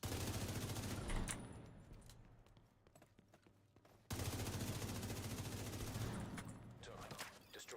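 Automated turrets fire in the video game My Friendly Neighborhood, a rapid, dense burst of gunfire that drops away midway, then resumes at full strength for the rest of the stretch.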